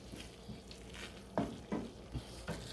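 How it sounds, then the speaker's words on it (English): A spoon stirs pumpkin risotto rice through a sizzling pan in quick, irregular strokes, each a soft scraping swish over a faint, steady fry, fairly quiet and close. "That's why you see me constantly stirring the rice."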